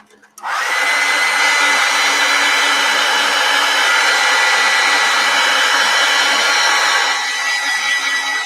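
A hair dryer blows steadily on a mixed media painting, starting abruptly and holding a loud, even whoosh for about seven seconds before easing slightly near the end, with no talking.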